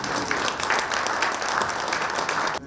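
Audience clapping at a Korean school centennial ceremony as a plaque is presented, a dense, steady burst of applause from a large indoor crowd.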